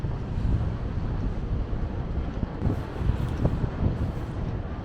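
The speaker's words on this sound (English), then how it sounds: "it's starting to get windy" Strong wind on Toronto's Yonge Street buffets a microphone with no windscreen in a steady low roar, rumbling continuously with gusty bursts throughout.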